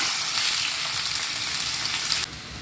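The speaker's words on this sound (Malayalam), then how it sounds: "കുഞ്ഞുള്ളി ഇട്ട് കൊടുക്കാം" Sliced shallots fry in hot oil with mustard seeds and red chillies, giving a loud, steady crackling sizzle close up that drops slightly in level near the end.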